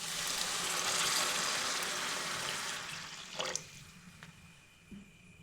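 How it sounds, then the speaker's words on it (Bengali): Water pours steadily into a pan of chicken masala being cooked for Maggi noodles, a loud continuous splashing rush for about three seconds that then stops, followed by a few faint kitchen clinks. "এরপর দিয়ে দিচ্ছি এখানে জল।"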